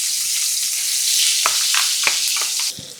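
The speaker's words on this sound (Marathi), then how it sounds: "आता या तेलामध्ये घालूयात हे वाटण" Ground spice paste for a turmeric-water matki amti hits hot oil with a loud, close hiss, a steady bright sizzle broken by a few soft stirring knocks before it drops away at the end.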